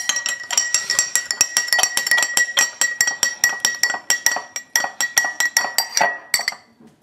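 A spoon stirs a solution in a glass, giving a long run of bright, rapid clinks against the rim, close and loud, steady until it stops at the end.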